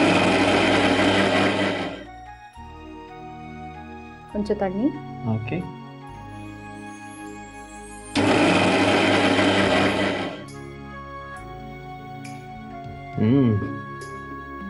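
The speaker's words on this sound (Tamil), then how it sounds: "இப்போ தான் அரைக்க வேண்டியதுதான்." A mixer grinder blends ginger and spice paste for rajma curry in loud whirring bursts, about two seconds each, separated by pauses where people talk briefly.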